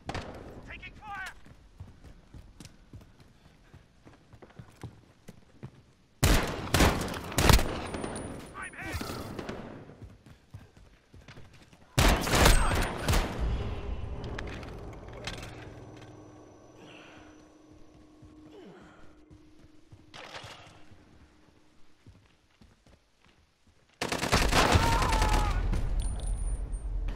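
Gunfire in the online shooter Call of Duty: Modern Warfare comes as several loud bursts of rapid shots between quieter stretches of game ambience, with a voice heard now and then.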